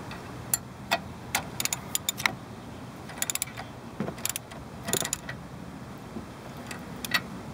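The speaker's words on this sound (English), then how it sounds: "So now I'm going to put the bolt in." A bolt is fitted and tightened on a car's steering knuckle, a quiet series of irregular metallic clicks and ratchet ticks, close by with no talking.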